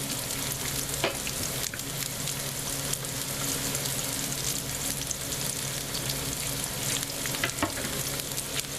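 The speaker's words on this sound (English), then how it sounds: "I just want those onions to get a little sizzle on it" Chopped onions sizzle and fry steadily in a hot pan for a quick cabbage dish, a dense, even crackle with occasional louder pops and stirring scrapes, close up and without talk.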